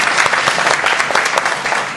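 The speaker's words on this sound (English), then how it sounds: "I think you need a round of applause." An audience at a Q&A session in Ipoh breaks into a loud, sustained round of applause, dense clapping filling the whole stretch without a break.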